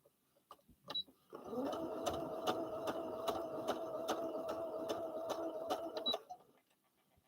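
Sewing machine running a straight line of stitching, a steady mechanical whir with a rapid needle rhythm for about five seconds, with brief clicks before it starts and after it stops.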